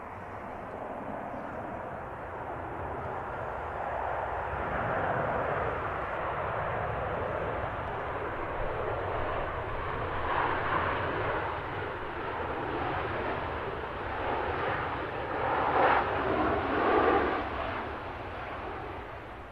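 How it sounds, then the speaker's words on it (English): An airliner departing Manchester Airport, a steady, broad jet roar that holds for many seconds and swells slightly toward the end, heard from a distance with no voices over it. "Awesome departure."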